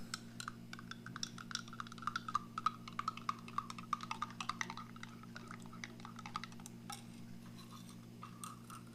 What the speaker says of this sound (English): Their little vitamin drink. We'll stir it up.